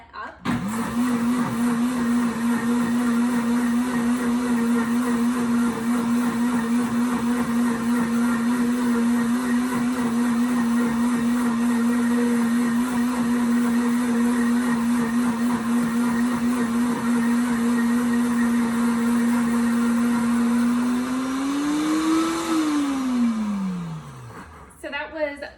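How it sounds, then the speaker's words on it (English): A blender mixing a coconut lime icebox cake filling runs steadily for about 23 seconds with a constant whirring pitch that rises briefly near the end before winding down and stopping. "So that was 23 seconds on the blender there, and you heard how it got nice and high pitched."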